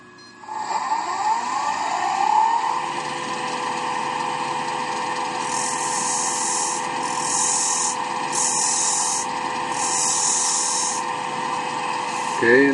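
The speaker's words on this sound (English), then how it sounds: "I want to cut a couple of small grooves to keep the wire from wandering around" A power tool cuts small grooves into a thin-walled wooden goblet, giving a steady whirring hum with short bursts of scraping friction against the wood, close up and alone.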